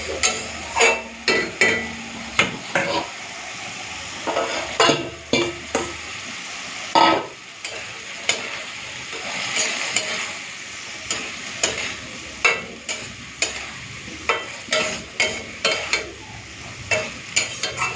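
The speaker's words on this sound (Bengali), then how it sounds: "এখন আমি ভেজে রাখা ঢেঁড়সটা দিয়ে দেবো" Fried okra being stir-fried into a cooked-down tomato spice masala in a pan, with a steady oily sizzle broken by frequent sharp scraping strokes of a spatula, close and loud throughout.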